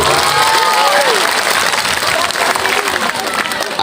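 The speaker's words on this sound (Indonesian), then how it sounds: "Tepuk tangan." Audience applause at an Islamic school education office work visit in North Sumatra: loud, sustained clapping from a crowd filling the whole stretch, with some cheering voices mixed in.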